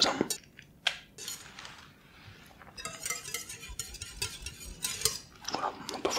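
Flour and egg batter stirred in a bowl, with quiet scraping and clinking of a utensil against the dish, in irregular strokes that come close and fairly soft, without talk.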